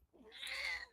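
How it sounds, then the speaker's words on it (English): A single short meow from a pet cat named Bella, rising and then falling, faint and close by, with nothing else heard around it. "That's my cat."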